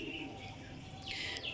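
Racing pigeons cooing softly in a loft, faint low coos under steady background hiss with a brief brighter chirp or flutter, no talking.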